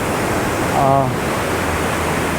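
Strong, fast-running floodwater near Chiang Mai, Thailand, gives a loud, continuous broadband rush, and a brief voice rises over it near the middle.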